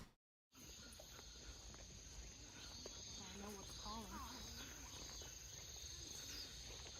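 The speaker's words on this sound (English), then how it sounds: "You just need to be able to hear the cicadas." Cicadas in Japan, a faint, steady high-pitched buzzing drone that runs throughout at a distance, with other quiet chirps and twitters scattered over it after a brief silence at the start.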